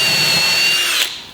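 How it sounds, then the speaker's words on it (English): A power drill spins a stepped drill bit through wood, boring shelf pin holes with a jig for a children's bookcase: a loud, steady high whine that cuts off abruptly after about a second. "So I'll go ahead and I'm going to drill"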